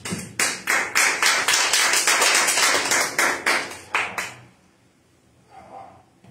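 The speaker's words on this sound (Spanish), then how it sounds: "Dale palmas de alabanza al que vive." A church congregation claps in praise: loud, even, rhythmic hand claps in quick succession for about four seconds, then stopping abruptly into a quiet room.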